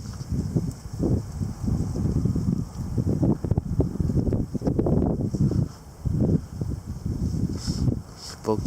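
Gusty wind buffets the microphone in bursts at the onset of a February wind storm with light snowfall, rumbling low and loud, easing briefly around the middle before picking up again.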